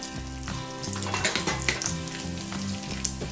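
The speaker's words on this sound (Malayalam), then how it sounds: "ഒരു ടേബിൾ സ്പൂൺ കിസ്മിസ് ഇടാം റൈസിൻസ്" Cashews and raisins fry in hot fat in a pan with a steady, crackling sizzle and occasional stirring clicks, under faint sustained tonal music.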